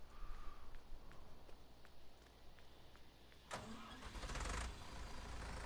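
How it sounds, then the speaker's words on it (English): A tractor engine starting in a farming video game: soft ticking and low rumble, then a sudden loud crank that settles into a steady idling drone. "let's go take this tractor home."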